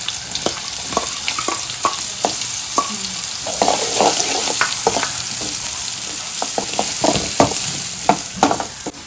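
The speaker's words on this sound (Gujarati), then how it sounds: "ડુંગળી નાખશું એકદમ ઝીણી સમારેલી" Finely chopped onions frying in hot oil in a pan with green chillies, a loud steady sizzle broken by repeated scraping stirs of a spoon, close up, with no talking.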